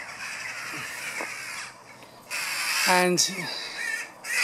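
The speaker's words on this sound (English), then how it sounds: "I'm being attacked by birds" Crows caw loudly and harshly in repeated bursts while swooping to defend a young bird near their nest, with a person speaking briefly in between the calls.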